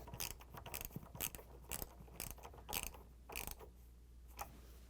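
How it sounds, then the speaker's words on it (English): A socket wrench ratchets to tighten the lower hinge bolts on an LG/Kenmore refrigerator, giving a series of close, sharp clicking bursts in an irregular rhythm over a low steady hum. "And I'm going to use this socket wrench to complete the job."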